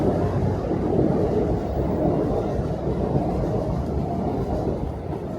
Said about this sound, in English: And there goes a train going right over us.